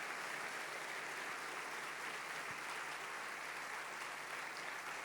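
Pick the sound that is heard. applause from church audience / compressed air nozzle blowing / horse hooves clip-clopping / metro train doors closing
applause from church audience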